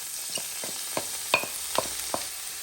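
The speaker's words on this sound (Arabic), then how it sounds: "غنشحروا الخضر" Vegetables sautéing in olive oil and butter, a soft sizzle broken by a series of sharp scraping stirs and light metallic clicks from a utensil in the pan, close but fairly quiet.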